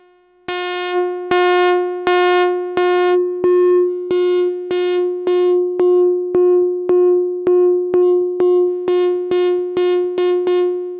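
A buzzy, harmonically rich modular synth oscillator tone pulses in steady repeated notes, loud and close, with the rhythm quickening toward the end and no voices.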